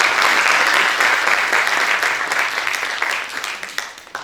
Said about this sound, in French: Et je pense qu'on peut peut-être encore une fois les applaudir pour leur engagement.